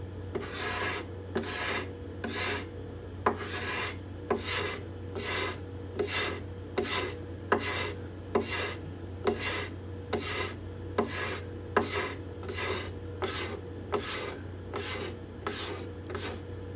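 A cabinet scraper works the cedar top bindings and purflings of a Desmond guitar in steady, evenly spaced rasping strokes, about one every second, close and clear over a low background hum, with no voices.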